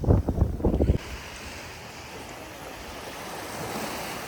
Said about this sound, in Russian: Погода здесь ветреная.